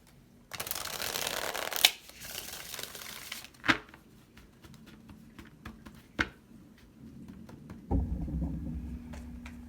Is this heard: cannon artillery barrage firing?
no